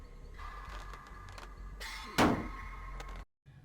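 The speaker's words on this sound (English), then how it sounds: "Skill checks always will make a sound" A Dead by Daylight skill check alert rings out once as a short, sharp tonal burst over steady low game ambience, followed by a brief drop to silence.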